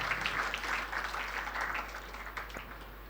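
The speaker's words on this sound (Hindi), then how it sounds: "ताली बजाओ इसके लिए" An audience at a school Gita distribution event claps briefly on request, a soft, somewhat distant patter of applause that fades over a few seconds.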